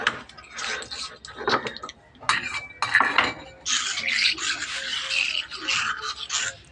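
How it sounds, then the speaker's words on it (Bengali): Scraping and clattering of a heavy stone grinding slab being scrubbed and rinsed, with splashing water and knocks, close and fairly loud, no talking. "শিলপাটাটা আমি ভালো করে ধুয়ে নিচ্ছি।"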